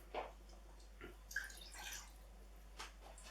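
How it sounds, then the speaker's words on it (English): Water is swilled in a tin and tipped into a pan of Spanish meatballs in spicy Bravas sauce, heard as a few faint, scattered drips and small splashes in a quiet kitchen, with no talking. "you want to add about half a tin of water as well"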